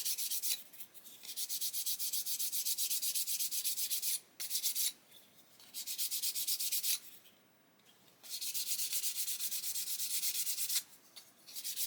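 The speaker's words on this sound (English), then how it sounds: "So I need to do some more sanding here" Sandpaper rubs back and forth on the roof of a model boat in long, steady strokes, broken by short pauses, close and fairly quiet with no voices.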